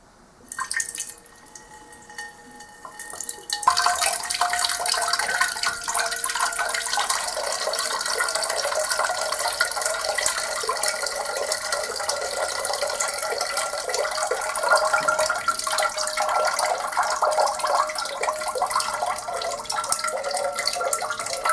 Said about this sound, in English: maybe gently try to drain the water out